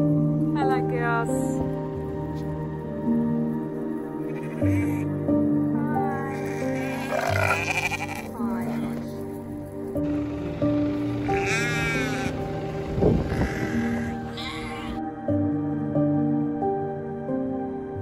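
Several sheep on an Australian homestead bleat repeatedly at feeding time. The calls are close and overlapping, over a steady low background, and a person speaks at times among them.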